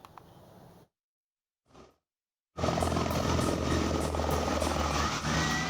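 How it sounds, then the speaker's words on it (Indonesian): After a near-silent pause, a Bell helicopter's engine and rotor roar start abruptly as it takes off from a field in Cijulang, Pangandaran, staying loud and constant, close by. "Helikopter jenis Bell tersebut hendak lepas landas"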